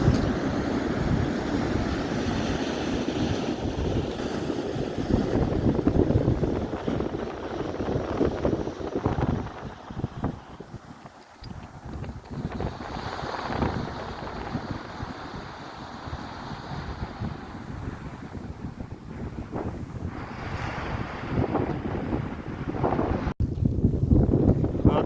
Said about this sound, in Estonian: Lained, siukesed nagu nad on.